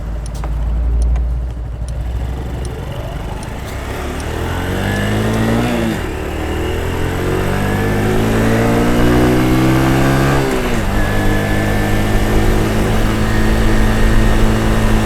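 A 2013 Honda Super Cub 110cc motorcycle accelerates through its gears, the close, steady engine note climbing in pitch, then dropping briefly at two shifts before rising again, with no talking.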